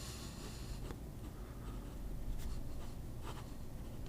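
Medium-nib fountain pen writing with Iro Shizuku Kujaku ink, a soft continuous scratch of nib on paper with faint quick stroke accents, close and quiet.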